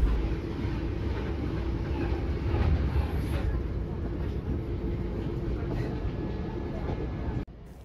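Inside a moving train near Foxton station, England, a steady low rumble and rattle carry on for several seconds, then cut off abruptly near the end.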